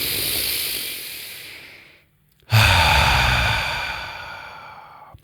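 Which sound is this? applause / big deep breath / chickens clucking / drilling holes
big deep breath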